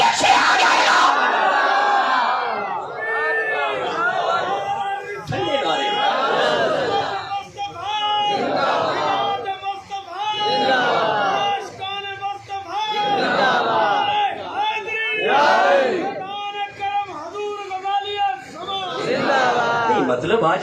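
A crowd at a night-time Milad religious gathering in Rahim Yar Khan shouts religious slogans in loud, repeated chanted bursts with short gaps between them.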